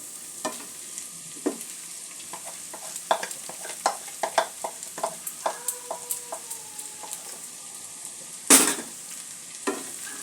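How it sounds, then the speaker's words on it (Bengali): Poha (flattened rice) fries with vegetables in a pan under a soft sizzle, while a spatula scrapes and taps the pan in quick, irregular strokes, close by with no talking. "সমস্ত সবজির সাথে একটু নাড়াচাড়া করে নেব"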